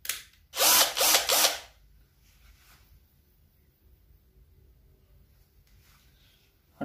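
A Keelat cordless electric drill spins up in a loud, close whir with a ratcheting edge for about a second, then falls quiet to a faint background hush.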